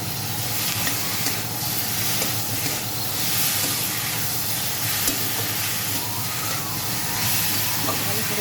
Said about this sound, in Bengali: এবার আমি ভেজে রাখা ফুলকপি আর আলুটা দিয়ে দিলাম, দিয়ে একটু নাড়াচাড়া করে নেব।